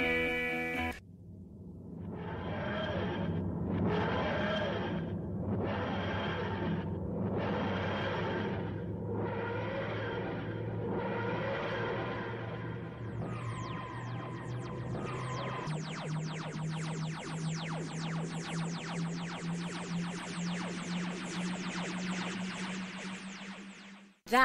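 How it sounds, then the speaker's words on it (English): The Doctor Who TARDIS materialisation effect plays loud and alone: a series of rising and falling wheezing, grinding swells that pulse about every two seconds, then give way to a sustained, shimmering drone that holds until it cuts off abruptly. "That was the sound of the Doctor Who TARDIS."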